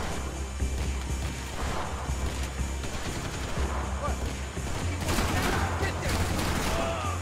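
Dense enemy gunfire in Max Payne 3, a steady spray of rapid shots from a carbine or shotgun, loud and continuous, with bursts growing heavier near the end.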